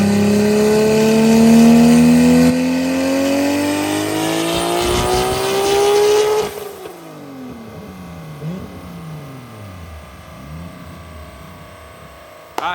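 Nissan RB26 engine on a dyno pull, a loud, rising, high-pitched rev climbing steadily for several seconds before the throttle lifts, then falling, wavering revs that fade to a quieter rumble.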